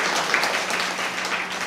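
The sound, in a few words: audience applause at a Tamil comedy speech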